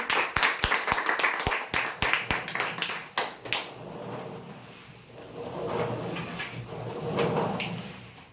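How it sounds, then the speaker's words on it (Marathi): Loud burst of applause for a winner at a prize draw, a string of sharp claps in the first few seconds fading into murmuring crowd noise and rustling afterward. "जोरदार टाळ्या होत्या यांच्यासाठी"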